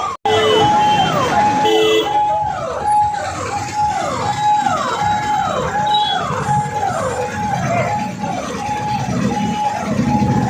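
An ambulance siren wails loudly and continuously in a repeating rising-and-falling pattern while the vehicle sits stuck in a traffic jam near the Rajouri district commissioner's office, with street traffic noise underneath.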